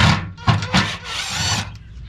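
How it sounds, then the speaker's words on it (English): A socket wrench working the mounting nuts of a Toyota Tundra bumper during a Warn winch bumper installation, giving short bursts of ratcheting and metallic clicking with brief pauses between them, close to the microphone. "we're down to the point we're taking those bumper nuts off"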